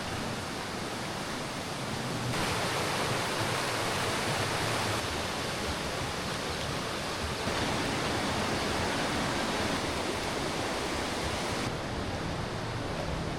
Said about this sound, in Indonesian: hari ini aliran sungai ini menjadi lebih deras dan airnya berubah keruh.